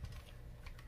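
Fast typing on a Logitech MX Mechanical keyboard with tactile switches, a quick run of soft, muted key clacks, close but quiet.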